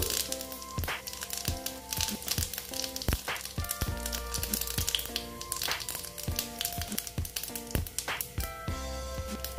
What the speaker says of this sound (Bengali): তেলটা গরম হয়ে গেছে। এখন আমি এখানে দিয়ে দিচ্ছি জিরে ফোড়ন।